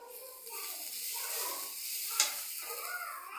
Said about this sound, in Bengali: ভাজা করছি, ডাল রান্না করছি।